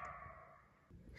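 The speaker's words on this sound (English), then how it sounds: "you could hear a coyote barking" A coyote barks close by outdoors, a brief faint dog-like yelp heard alone in a quiet setting.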